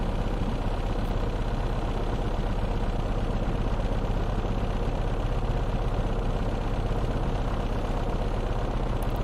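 The right engine of an aircraft starting up in a flight simulator game, a steady droning rumble with a continuous low hum that holds constant without talk.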